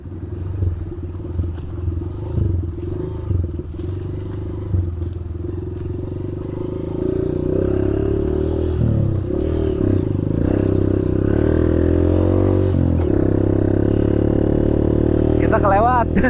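A motorcycle engine runs steadily while riding an off-road track along the southern coast, with rumbling drone and clattering rises over rough ground, and a voice talks over it at times.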